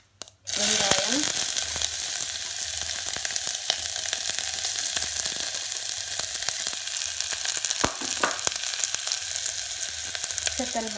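Onion sizzles steadily in hot oil with mustard seeds for kadalai rasam, a dense continuous frying hiss starting abruptly and holding loud and close throughout, with a few scattered crackles and light clinks.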